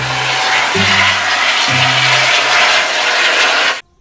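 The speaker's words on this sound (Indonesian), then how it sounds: "Ini adalah helikopter." Loud, steady whirring aircraft noise with low droning tones, close by, cutting off abruptly at the end.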